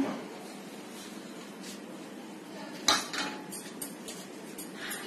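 A metal spoon stirs raisins and cardamom powder in a pan, giving quiet scraping and a few sharp clinks against the metal, one more prominent than the rest, over faint kitchen background.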